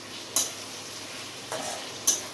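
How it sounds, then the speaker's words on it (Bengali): Food frying with tomato ketchup gives a soft, low sizzle under three distinct metallic scrapes and clinks of a utensil against the pan, spaced about a second apart. "ভালো করে নাড়াচাড়া করে মিলিয়ে নেব"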